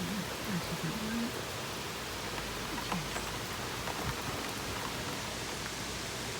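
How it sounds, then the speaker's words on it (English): Steady rain falling in hot weather, a continuous even hiss of drops close by throughout, with faint voice-like sounds briefly underneath at the start. "Just started raining."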